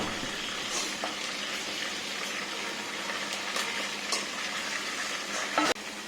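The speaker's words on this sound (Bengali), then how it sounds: "এটা কলিজার জন্য আলু পেঁয়াজ ভেজে নিচ্ছি" Potatoes and onions frying in a pan as a base for chicken liver, a steady close sizzle and hiss with a few stirring clinks and a brief louder crackle near the end.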